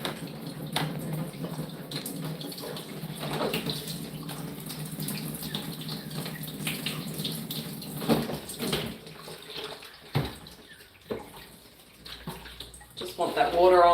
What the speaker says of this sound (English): Want that water on slowly to begin with so that it doesn't splash too much dirt around.